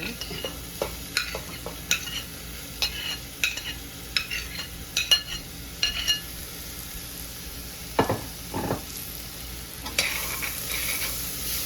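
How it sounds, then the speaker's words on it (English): Scallions and sweet red, yellow and orange peppers sizzle in a pan while being stirred, with scattered scraping clicks and a soft steady fry hiss throughout, building slightly louder near the end. "I'm going to throw in my scallions. Some sweet red, yellow, and orange peppers."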